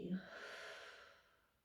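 A single deep exhale during Pilates relaxation: one soft, breathy outflow of air close to the listener that fades gradually over about a second and a half.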